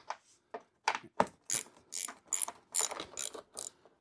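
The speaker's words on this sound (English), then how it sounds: "you're just going to want to take 1, 2, 3 10 millimeter bolts out" A hand ratchet works 10 mm bolts loose on a 2018 Nissan LEAF raised on a hoist, giving about ten crisp clicking bursts in an uneven rhythm, close and alone in a quiet space.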